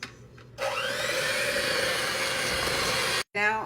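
Electric mixer whirring steadily through pumpkin batter, a continuous close motor drone lasting about three seconds before cutting off abruptly, with a brief pause and a short restart at the end.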